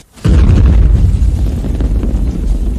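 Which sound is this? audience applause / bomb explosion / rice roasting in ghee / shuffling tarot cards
bomb explosion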